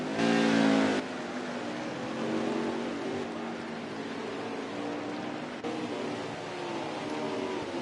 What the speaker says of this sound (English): We got engine noise again